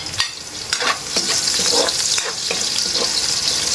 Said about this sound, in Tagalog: O yan, medyo fry na ng konti ang ating luya. Sunod natin yung bawang, no?